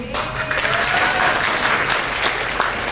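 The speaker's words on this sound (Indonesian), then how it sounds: "Tepuk tangan ini untuk rekan saya Arif Tito yang menyiapkan slide ini sehingga" An audience at a formal lecture applauds with dense, sustained clapping from many hands, loud and close throughout, with a faint voice briefly audible beneath it.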